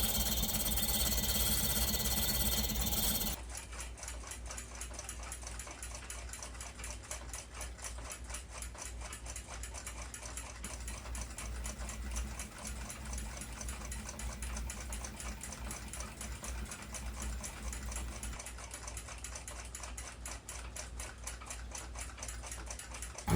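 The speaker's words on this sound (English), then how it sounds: "I'll use a diamond wheel to trim them up." A diamond wheel trims small tool-steel parts for an 1887 Kroeber marine ship's clock. It makes a steady, fast mechanical whir with rapid ticking pulses, faint and continuous, and a louder rushing burst at the start.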